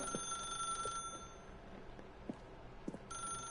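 A telephone in The Stanley Parable rings with a steady electronic tone, pausing briefly in the middle before ringing again, fairly faint with no voices present.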